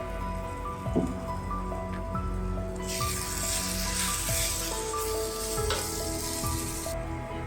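Mango pieces sizzle and crackle steadily as they sauté in hot oil, with occasional scraping stirs and clinks of a utensil; no one speaks.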